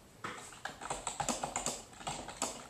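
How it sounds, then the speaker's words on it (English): Fingers type quickly on a computer keyboard, a close run of light, irregular key clicks lasting a few seconds in a quiet room. "So you'll type in"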